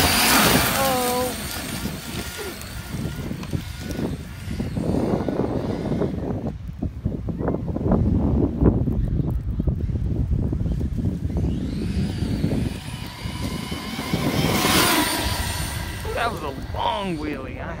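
An RC car on paddle tires runs outdoors on a sunny day, its motor whining and revving in bursts, with steady wind buffeting the microphone throughout.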